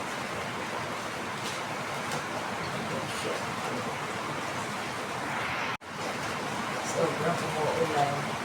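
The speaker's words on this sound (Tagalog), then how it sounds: "Sobrang umuulan." Heavy rain pours down steadily in a strong wind, a dense broadband hiss that fills the space at an even, loud level, with a brief dropout near the end.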